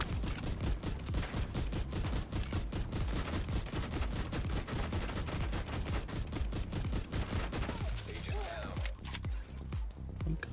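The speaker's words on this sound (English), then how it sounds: "Laser targeted grenade launcher." Dense rapid gunfire and explosive bursts from a laser-targeted grenade launcher in The Division 2 hammer on almost without pause, loud and close, with a brief thinning near the end.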